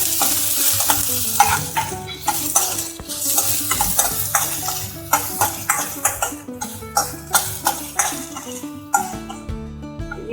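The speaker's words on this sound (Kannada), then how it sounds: "ಈಗ ನೀರುಳ್ಳಿ ಹಾಕುವ." Onions sizzle and fry in hot oil with mustard seeds, cumin and garlic for a Kerala-style kadala curry, stirred steadily with a spoon that clinks against the pan, loud and close with no talk.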